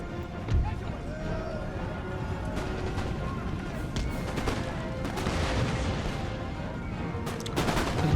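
Scattered musket volleys and battlefield din from Empire Total War's British campaign crackle at a distance under continuous talking, with a few sharper cracks near the end.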